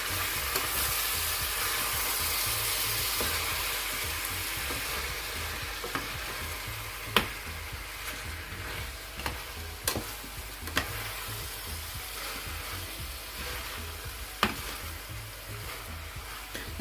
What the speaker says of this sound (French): je viens de rajouter mon gésier. On va mélanger tout ça.